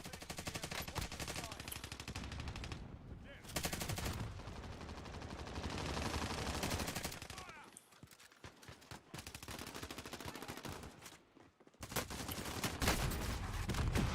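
Rapid automatic gunfire in a Call of Duty match, long dense bursts broken by brief pauses, loud and close, with little talk beneath the shooting.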